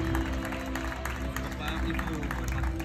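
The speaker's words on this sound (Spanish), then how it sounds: "El aplauso, familia. El aplauso" Wedding guests at a reception venue applauding the bride and groom, a continuous crowd clapping under chatter and background music, with voices throughout.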